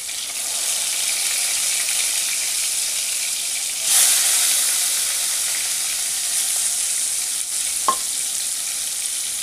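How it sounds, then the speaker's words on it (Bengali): Katla fish fries in hot mustard oil with a steady, close sizzle. It flares briefly louder midway, and a small sharp click comes near the end. "মাছটা ভাজতে দিয়ে দিলাম।"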